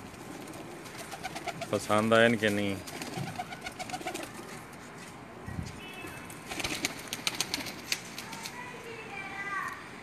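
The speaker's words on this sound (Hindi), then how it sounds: "देखो साढ़े लाखे कबूतर जनाब" A flock of pigeons coos at close range, soft repeated calls rising and falling around a voice asking a question, with a brief flutter of wings partway through.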